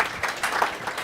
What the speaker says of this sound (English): So a quick round of applause for Bridget